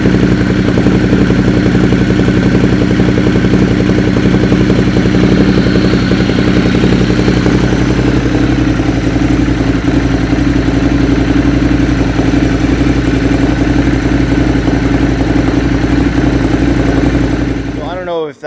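A Ducati motorcycle, either a 1199R superbike or a Monster 1200S, idling close by with a loud, steady throbbing engine note that holds for the whole stretch before cutting off abruptly at the end.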